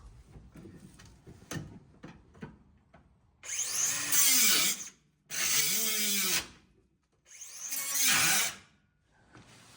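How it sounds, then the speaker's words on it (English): A cutoff wheel grinds through welds on a car, three separate loud, harsh bursts of a few seconds each with short pauses between them, the pitch sagging as the wheel bites into the metal, preceded by quieter clanks and handling noises. "So I'm gonna get my cutoff wheel in here, cut these welds, and pry this out of the way"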